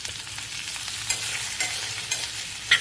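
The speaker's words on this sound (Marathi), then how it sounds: "आता आपण त्यामध्ये वालाच्या शेंगा टाकून व्यवस्थितपणे हलवून घेणार आहोत" Flat bean pods tossed with spices in a hot pan give a steady soft sizzle with rustling, scraping stir strokes and a few sharper clicks near the end, all close and without talk.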